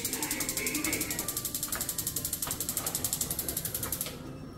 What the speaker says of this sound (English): You have to turn it on and turn the knobs like this.